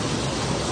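Heavy rain pours down on Ghatasthapana day in Manwath, a steady, loud wash of hiss with no break across the brief moment.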